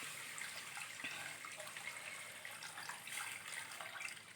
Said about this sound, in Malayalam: അപ്പോൾ ഒരു 6 ഗ്ലാസ് വെള്ളമാണ് ഞാൻ ഒഴിക്കണത്.